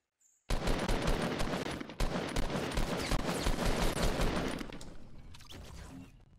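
Sustained rapid gunfire bursts from a video game erupt suddenly and run loud and continuous for several seconds before tapering off, with no talking over them.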